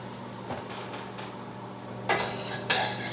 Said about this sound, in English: Caramelizing some onions.